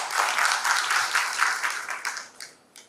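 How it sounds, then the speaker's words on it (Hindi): Dense applause from a conference audience at a panel discussion during an Indian direct selling leadership event, loud and continuous at first, then thinning into scattered claps as it fades out. "तो आप सर के लिए जोरदार ताली आप सर के लिए।"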